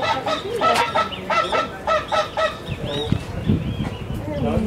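Three newly hatched goslings call in a run of repeated, uneven peeps and honk-like cries close by, with a faint voice at times in the background.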